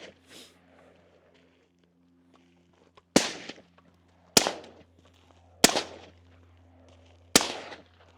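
Four suppressed gunshots ring out at an outdoor range while the shooter walks between targets, each a sharp crack spaced about a second apart with a short decaying tail, over a low steady hum.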